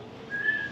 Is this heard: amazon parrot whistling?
yes